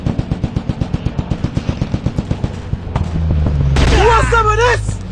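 Rapid machine gun fire in a fighting video game, a steady fast stream of punchy shots for nearly three seconds, followed by a low rumbling blast and a shouted voice over the noise.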